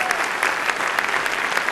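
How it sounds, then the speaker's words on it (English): An audience gives sustained applause for the recipient of the 2011 Stan Naccarato Community Service Award; dense, steady clapping fills the hall without any talk over it. "Would you all stand and give her a bigger round of applause?"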